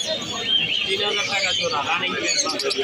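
Diamond doves at a busy outdoor bird market give soft, faint coos and chirps amid dense crowd babble and nearby talking.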